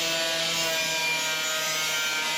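A flap disc on an angle grinder sands sheet steel on a 1963 Loadstar truck right up to a taped edge, giving a loud, steady, continuous abrasive whine close by with no break or voice.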